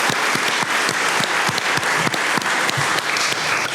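Audience at a 2022 League of Women Voters candidate forum for US Congress breaks into steady applause with some cheering, a dense continuous clapping that fills the room from start to finish.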